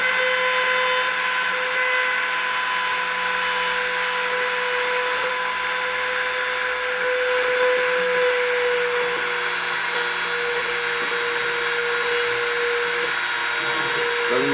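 A 3D printer spindle whines steadily at close range during deposition, a continuous high-pitched tonal drone with no pauses and no speech.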